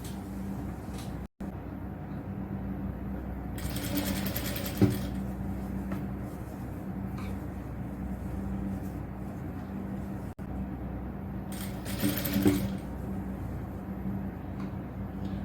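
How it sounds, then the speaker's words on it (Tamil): A sewing machine runs steadily as it stitches a frill onto the sleeve of a nightgown, giving a continuous mechanical hum with brief bursts of faster, louder stitching. "அடுத்தது கைக்கான ஃப்ரில் வச்சு தைக்கலாம்."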